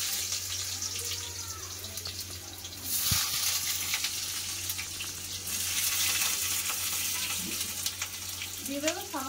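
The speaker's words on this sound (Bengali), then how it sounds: "তেল গরম হয়ে গেছে, আগে আলুটা ভেজে নেবো" Potatoes frying in hot mustard oil make a steady, fairly loud hiss and crackle that swells midway, with a low hum underneath throughout and no talking.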